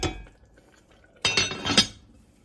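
A spoon stirring tomato pasta sauce in a pot, with a metallic scrape at the start, a quiet pause, then a louder burst of clinking and scraping against the pot.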